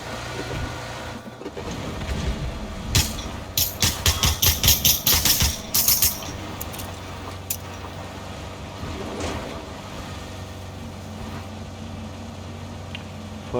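A vehicle engine drones steadily while driving in the battle royale game PUBG, with a burst of loud rapid clattering impacts partway through before the engine hum settles back.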